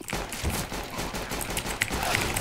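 Rapid automatic rifle fire in the game CS:GO, a dense continuous burst of shots filling the whole stretch at steady loudness, with no talk over it.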